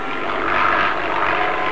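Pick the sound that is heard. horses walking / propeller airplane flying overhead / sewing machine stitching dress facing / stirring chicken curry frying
propeller airplane flying overhead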